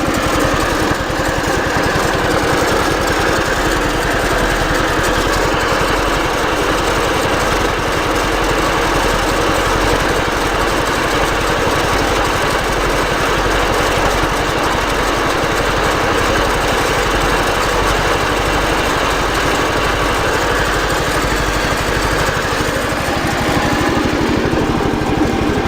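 A 2004 MTD SN 150 ride-on lawn mower engine runs steadily and loudly up close, a constant droning, vibrating hum with no break for the whole stretch and no talking.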